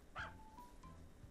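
A dog from the farming video game A Wonderful Life gives one short yip followed by a faint whining trail, quiet and brief against a soft background.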